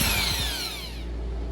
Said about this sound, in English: I'll drill it out, and hopefully this will fit